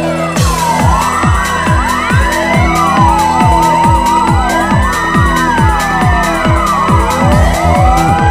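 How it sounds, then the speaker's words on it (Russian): Fire engine sirens wail in overlapping, repeating up-and-down sweeps, loud and continuous, over a steady rhythmic musical beat. "Опять звучит надрывный вой сирены."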